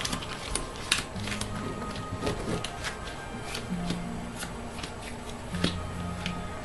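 A deck of Gloomhaven monster ability cards being shuffled by hand: repeated riffling bursts and soft card slaps, close and crisp, in an irregular rhythm lasting several seconds.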